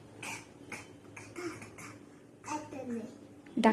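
A small child imitates a duck with a quick series of short, harsh quack-like bursts, close and quiet, ending in a louder burst.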